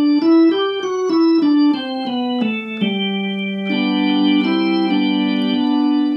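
A digital accordion on its number 5 organ register plays a short descending run of sustained notes, then holds a steady chord, loud and close with no talking.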